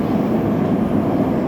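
An Elizabeth line train runs through a tunnel between Canary Wharf and Abbey Wood, giving a loud, steady, close rumble that holds unbroken from start to finish with no voices.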